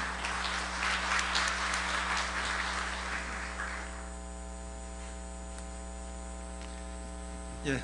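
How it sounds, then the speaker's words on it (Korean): An audience at a municipal administrative symposium applauds to welcome a university professor to the podium. Soft, spread-out clapping lasts about four seconds and then dies away, leaving a strong steady electrical hum alone. "큰 박수로 환영해 주시기 바랍니다"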